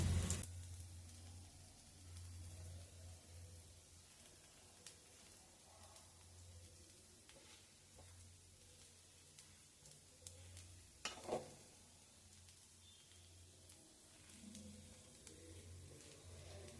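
A dosa sizzles softly on a hot pan with oil, a faint, steady frying hiss with occasional scrapes and small clicks, no talk over it.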